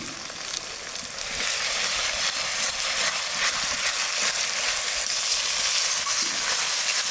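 Ginger and garlic fry in a pan with a steady, bright hiss of sizzling oil, continuous and close throughout, alone with no talking.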